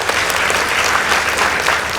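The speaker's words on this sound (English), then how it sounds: "Let's give them a round of applause." Dense, steady applause from a large audience, a continuous wash of clapping at full volume.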